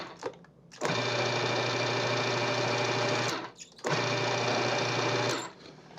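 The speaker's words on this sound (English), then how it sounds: "I just want to blend it just a little bit to kind of mix everything up." A blender pulses dip ingredients in two sustained bursts of steady motor whir, each roughly two and a half seconds long and separated by a short pause, loud and close with no talking.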